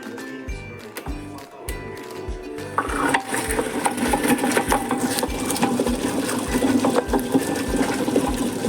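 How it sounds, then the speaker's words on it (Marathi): A kitchen mixer grinder churning a spice paste with a little water, starting with a few rhythmic chugging knocks before settling into a loud, continuous whirring grind, close up. "आता ग्राइंडर चालू करते"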